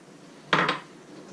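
Spices shaken through a large metal sieve over squash and vegetables for a tagine, giving a short burst of metallic rattling and sifting, two quick shakes close by, with no talking.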